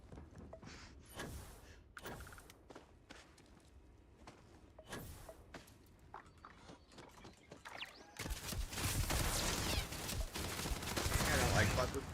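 Gunfire from a gun in the sci-fi video game Starfield, with scattered shots early on and then sustained, dense, loud firing over the last few seconds, while someone talks over it.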